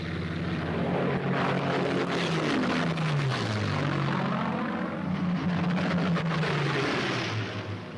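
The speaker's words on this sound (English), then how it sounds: "the group of escorting Mustangs watches every corner of the sky, weaving ahead, above, below, and all around the bombers" P-51 Mustang fighters escorting bombers fly past with a loud, continuous droning roar of propeller engines whose pitch rises and falls as they pass, with no talking over them.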